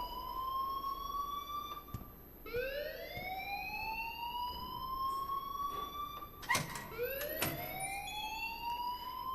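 An alarm rings in the video game Life is Strange, a loud rising electronic siren-like wail that sweeps upward repeatedly in overlapping tones, with no one speaking.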